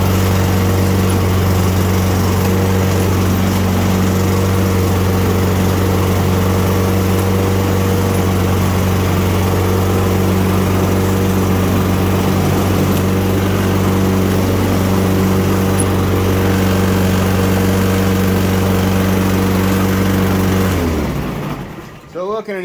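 Toro Recycler self-propelled lawn mower engine running at a steady loud idle, close by, with voices talking over it, then cutting off near the end.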